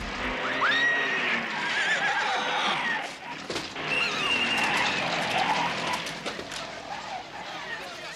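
A horse whinnies in a 1971 Soviet comedy film street scene, a loud rising-and-falling neigh near the start over busy street noise and background voices, with further clatter following.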